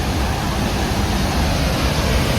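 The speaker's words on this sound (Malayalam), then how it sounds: "ഞങ്ങൾ വെള്ളച്ചാട്ടത്തിൽ പോകുകയാണ്." Bridal Veil Falls on Manitoulin Island, a loud continuous broadband roar of falling water heard up close with no pauses or voices.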